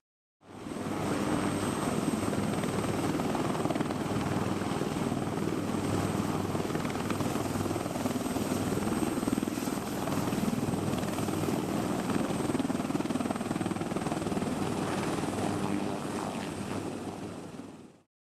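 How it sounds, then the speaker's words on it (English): A Bell AH-1Z Viper attack helicopter flies with a steady, loud rotor and turbine roar that holds constant throughout, with no talking. "The AH-1Z Viper is one of the most sophisticated and deadly attack helicopters in the world today."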